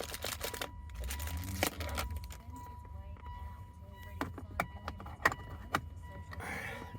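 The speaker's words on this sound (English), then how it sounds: "New one inserted into the slot." A smart key for a 2018 Mitsubishi Pajero Sport is pulled out of its slot and a new one pushed in, giving close plastic clicks and small jangles of the keys over a low hum, with a voice speaking.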